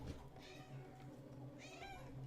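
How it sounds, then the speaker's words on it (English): A needy cat meows repeatedly at close range, its calls rising over a steady low hum at a hobby workbench, with brief speech in the room. "Needy cat"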